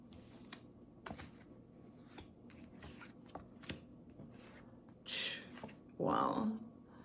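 Tarot cards being shuffled, soft scattered taps and riffles leading into two loud, close riffle bursts near the end, with quiet room sound between them.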